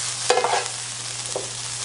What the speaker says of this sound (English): I need to stir it just a little